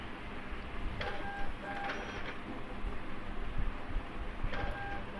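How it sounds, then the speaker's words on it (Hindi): A Zebra ZC300 thermal card printer runs through a test card print, giving a steady mechanical whir with a few faint tonal beeps, heard up close in a quiet indoor room with no talking. "ये देखिए हमने कमांड दी है और यहाँ से ये कार्ड प्रिंट हो रहा है"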